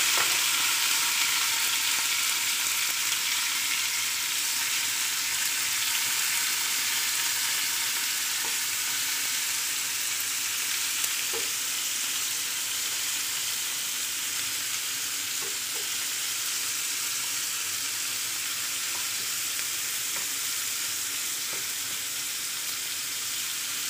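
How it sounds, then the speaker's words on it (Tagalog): Chopped onion and tomato frying together in a hot pan for breakfast, a steady close crackling sizzle with faint occasional stirring clicks, continuous and even throughout, no voices. "luto na ako ng sibuyas at saka kamatis"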